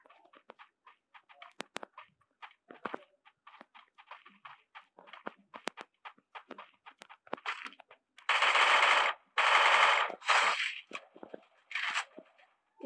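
Gunfire in the Free Fire battle royale game: a run of sharp, scattered shots early on, then several loud, dense bursts of automatic fire near the end, close and dominant with no talk.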